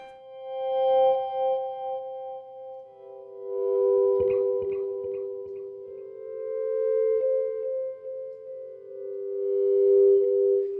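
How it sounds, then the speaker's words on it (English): Electric guitar volume swells played through delay and reverb pedals on a worship pedalboard: soft sustained tones fade in slowly and ring out, blurred by echoes and washy reverb, with a few picked notes in the middle. "if you want to do volume swells, the more delays and reverbs and stuff you have on, the better"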